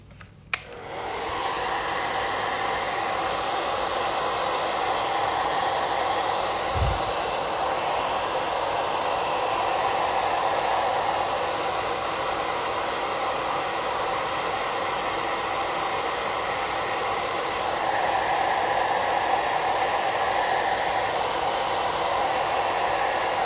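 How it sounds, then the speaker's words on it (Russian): A hair dryer switches on with a click and blows steadily, a loud continuous whooshing whine that runs on without a break. "Вот у меня под рукой есть фен."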